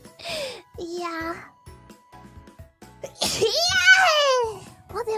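A sharp sneeze pops out loud and close, amid high, excited childlike voices talking and exclaiming before and after it.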